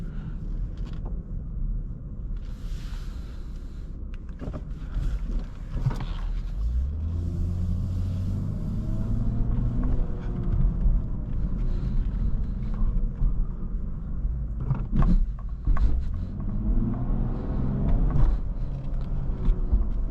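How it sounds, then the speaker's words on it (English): A 2023 Lexus IS 350 F Sport sedan with its V6 engine drives on the road, a loud low rumble that climbs through gears with rising revs and shifts, plus wind and road noise inside the cabin. "the engine in these sound really good"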